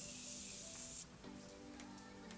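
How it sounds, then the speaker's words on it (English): Setting spray from a makeup bottle mists onto a face in one long continuous hissing burst that cuts off after about a second, followed by quieter room sound. "So I am going to spray this just so that I can kind of set everything down."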